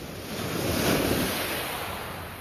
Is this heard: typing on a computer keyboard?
no